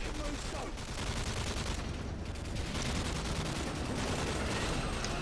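Sustained light machine gun fire in the Modern Warfare 3 campaign, a dense, loud, continuous rattle of rapid shots running throughout with no clear pauses.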